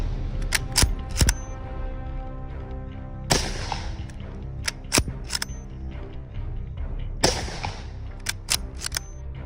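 Sharp gunshots from a Soviet WWII bolt-action rifle, a century-old military weapon, crack out in uneven clusters with brief gaps, loud and close with a reverberant tail after the heavier reports, no voices.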